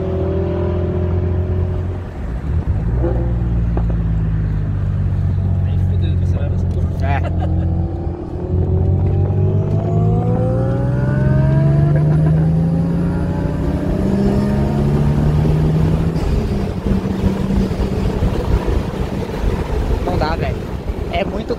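A Toyota Supra's 2JZ engine heard from inside the moving car, loud and close, its pitch rising and falling through repeated revs and gear changes, with people talking over it.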